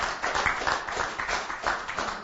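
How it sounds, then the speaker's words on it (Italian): Spectators at a cycling event clap in a brief, lively burst, a crowd's uneven rhythmic patter heard close and fairly loud. "Un applauso"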